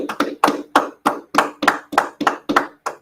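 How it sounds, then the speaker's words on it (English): Sharp, evenly spaced claps ring out close by during a class session, about eleven in a steady rhythm, each crisp with a brief decay and near-silence between them. "Clap it up, everybody."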